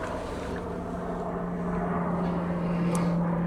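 An aircraft passes overhead at an outdoor shooting range, a steady low drone with a sustained hum that holds moderately loud and even throughout, with no voices.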